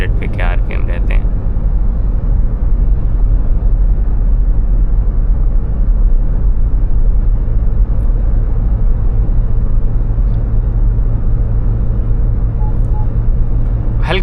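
Cabin of an MG Gloster diesel SUV cruising at 100 km/h in 8th gear, a low, steady engine and road rumble that stays constant throughout, with someone talking over it.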